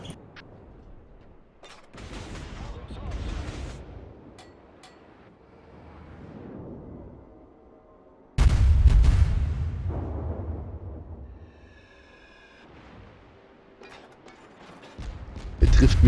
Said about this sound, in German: Er trifft mich mit einem einzigen Schuss und zack, mein Ruder ist kaputt